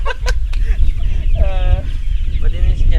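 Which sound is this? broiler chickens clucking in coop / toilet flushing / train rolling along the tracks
broiler chickens clucking in coop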